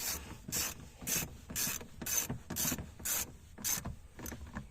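A ratchet with a T20 bit tightens door speaker bolts on a 2012-2018 Ford Focus, giving eight or so evenly spaced rasping clicks in a steady rhythm, close and fairly quiet.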